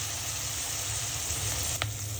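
Prawns fry with onion in a pan, giving a soft, steady sizzle with a faint stir or tap near the end and no talking.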